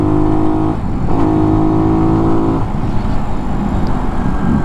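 A Skyteam Skymax 125 monkey bike engine while riding, a loud, close, buzzing drone that rises and falls in pitch as the throttle changes, with wind rushing over it.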